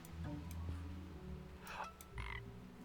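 A cartoonish frog croaks from the video game Storyteller, a few short quiet croaks and chirps spaced over a couple of seconds, with no talk.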